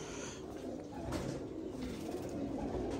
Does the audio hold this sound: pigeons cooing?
yes